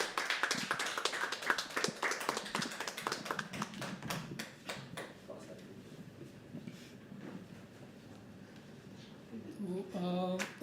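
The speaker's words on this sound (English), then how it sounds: "Keep clapping till he comes on stage, till he talks on stage." An audience at a live poetry open mic applauds steadily, with dense, close claps that gradually thin out into scattered hands, followed by a brief burst of clapping at the end.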